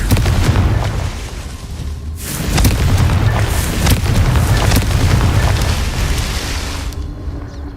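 Fire spell explosions from the Hogwarts Legacy video game: a loud, sustained booming roar with a brief dip near two seconds, then another heavy blast rumbling on before tailing off near the end.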